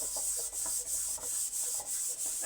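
Steady back-and-forth scrubbing of household dishes, done by hand at a home washing spot, with a rhythmic rasping stroke roughly every third of a second, close and fairly loud, with no talking.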